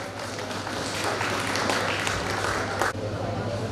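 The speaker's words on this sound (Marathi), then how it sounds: "जोरदार टाळ्या वाजवून" An audience at a college gathering and fest in Jalgaon gives loud, continuous applause to welcome the dean and guests on stage, with dense clapping throughout and voices mixed in.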